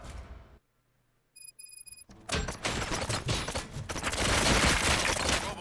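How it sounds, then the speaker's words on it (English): In a RoboCop video game, after a short silence and a few electronic beeps, bursts of rapid gunfire erupt and keep going, loud and dense with heavy reverberant thuds. "Gunshots? What's going on?"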